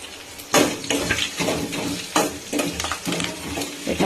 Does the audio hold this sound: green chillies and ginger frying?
yes